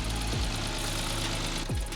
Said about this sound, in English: that loud tick is actually completely normal for these engines.